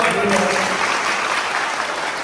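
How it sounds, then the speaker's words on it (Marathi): An audience at a village meeting bursts into loud, sustained clapping that fills the whole moment without a break, many hands close together under the crowd's noise. "जोरात टाळ्या वाजवा"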